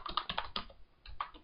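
Rapid clicking keystrokes on a stock keyboard that came with a computer, close and clear, forming an uneven burst of typing with a short pause before a few more presses.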